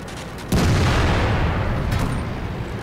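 A tank cannon fires in World of Tanks, a sudden heavy boom striking hard and rumbling on with a long low roar, then a fainter second report near the end, with no talk over it.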